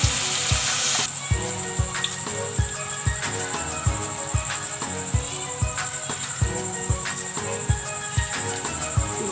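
Dahi vada dumplings of mash and moong lentils fry steadily in hot oil, a dense continuous sizzle with regular soft ticks and pops, close and loud throughout with no voices.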